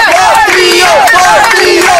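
A large crowd of neighbours at an open-air theatre in Zacapa, Guatemala, chants a former president's surname in loud, rhythmic repeated calls, close and continuous throughout.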